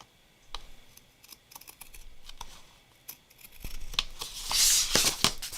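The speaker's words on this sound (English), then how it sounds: "And then I'm going to cut off the edge of this." Scissors snipping the edge off a craft piece, a series of sharp close cuts and paper rustles, growing louder and brighter toward the end.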